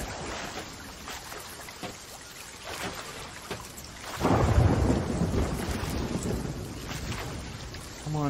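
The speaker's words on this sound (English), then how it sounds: "Our ship just got hit by lightning." Thunder rumbles across a stormy sea in a video game as lightning strikes a ship, a low broadband roar swelling loudly midway and holding over steady rain-like noise.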